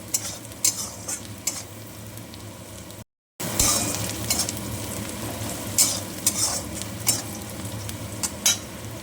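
Onions frying in a pan give off a steady sizzle while a spoon stirs them with repeated scrapes and clinks; the sound cuts out briefly, then the sizzling and stirring resume, close and clear.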